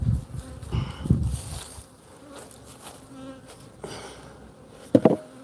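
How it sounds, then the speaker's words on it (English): Honey bees buzz close by at an open hive in uneven bursts, individual insects droning past loudly, with quieter humming between passes. "we got some bees up there"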